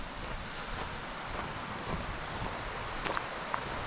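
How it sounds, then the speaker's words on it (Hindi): A small river flows through a forest near Dehradun, giving a steady, broad rush of running water with no pauses and no voices. "ये देखो यहाँ नदी है, छोटी सी नदी बह रही है।"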